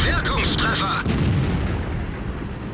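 A loud tank cannon shot from an Indien-Panzer in a tank battle video game, a heavy booming blast followed by a second sharp report and a long rumbling decay.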